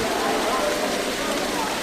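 Rain falls as a sound effect in a historical religious drama about Hazrat Yousuf, a steady, even wash of hiss filling the whole moment without pause.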